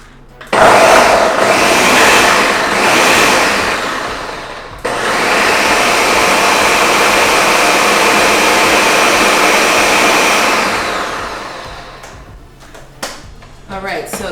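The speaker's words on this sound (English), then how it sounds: "Alright, so the chickpeas are blended up a little bit." A blender purées chickpeas for a vegan egg salad, running loud and close in two long bursts of whirring roar separated by a brief pause, then stopping and leaving quiet room sound.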